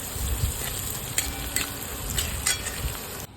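Onion sizzles steadily in a pan with salt while cooking for methi bhaji, a close, continuous frying hiss broken by light stirring scrapes before it cuts off.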